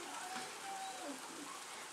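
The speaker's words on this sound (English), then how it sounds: "This is all friggin' raining." Rain falling outdoors, a faint, steady hiss of drops with no distinct pattern, continuous and soft.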